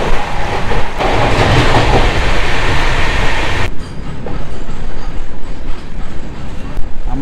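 The Sealdah Puri Duronto Express rolling into Balasore railway station at night, loud rumble and clatter that drops off sharply partway through as the train slows, with a continuing lower mechanical hum.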